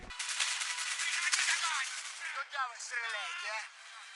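Gunfire in a scene from the film Mission Impossible Ghost Protocol, a dense burst of rapid shots crowding the opening seconds, with voices talking over and after the shooting.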